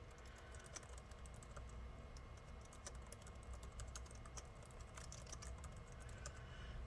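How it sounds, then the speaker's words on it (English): Steady typing of a password on a Mac keyboard, a continuous run of light, quick key clicks at close range with a low background rumble and no voices. "you basically type in whatever password you want after that"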